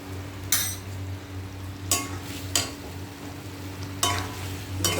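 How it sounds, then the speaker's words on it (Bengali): Ground turmeric, cumin and Kashmiri chili powder fry in a pan with a constant soft sizzle, while a spoon stirs and scrapes in four or five distinct strokes, close and moderately loud. "এবার একটু নাড়াচাড়া দিয়ে দেবো।"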